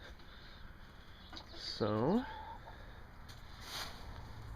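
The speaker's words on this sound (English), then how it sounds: "The chickens are being antsy." Backyard chickens by a makeshift hen house give a short rising cluck and a few soft calls over outdoor background noise, with a brief spoken word nearby.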